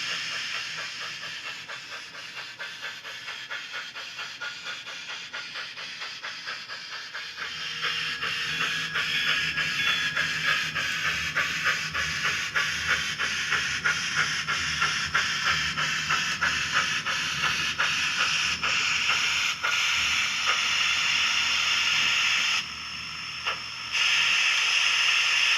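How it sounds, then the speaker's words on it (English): A small HO-scale model steam locomotive chuffs and hisses steadily with rhythmic clicking of wheels, growing louder partway through as its freight train draws nearer on a layout. "locomotive number 27 and its freight train are now approaching Carson City"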